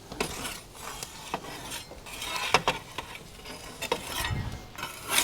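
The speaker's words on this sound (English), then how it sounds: "You can see pepperoni sizzling away in there." Pepperoni on pizza in a wood-fired oven gives soft crackling and sizzling with scattered pops and rasps, close and fairly quiet, no talking.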